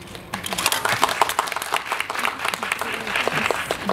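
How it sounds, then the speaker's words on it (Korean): An audience at a film screening and talk with the director and actors breaks into applause, a loud crackling burst of many hands clapping that continues steadily for several seconds. "큰 박수 부탁드립니다"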